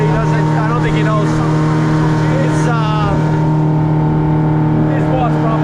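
A Yamaha 150 outboard motor drives a boat on the Nechi River in Colombia, a steady loud droning hum throughout with someone talking over it.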